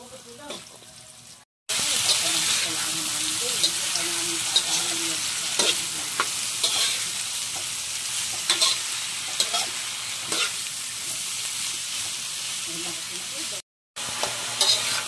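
Bean sprouts frying in a pan for lumpiang toge, a steady close sizzle broken by spatula scrapes and stirring, with brief cuts at the start and near the end and a voice speaking at times.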